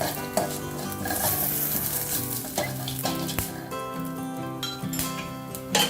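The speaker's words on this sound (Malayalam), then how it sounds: "ഇതൊന്ന് നന്നായി ചൂടായി വരുമ്പോൾ അതിലേക്ക് ഒരു പിടി കറിവേപ്പില കൂടി ഇട്ട്" A handful of curry leaves sizzling and crackling in hot oil while dry tapioca curry is being cooked, a dense, steady frying hiss with sharp pops and light utensil clinks throughout, close and fairly loud with no talking.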